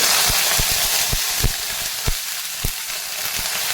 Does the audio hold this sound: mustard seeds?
yes